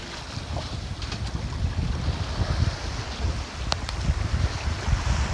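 Wind rushing over a sailboat at sea in about 15 knots, with the genoa out, heard as a steady broadband roar with low buffeting against the microphone and a wash of water, moderately loud throughout.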